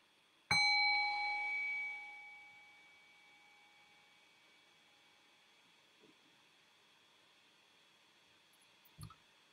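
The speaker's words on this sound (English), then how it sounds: "I'll ring the sound of the bell and bring us back into a conversational space." A meditation bell is struck once, ringing out with a clear, sustained tone that slowly fades over several seconds, followed by near-silence and a couple of faint soft knocks.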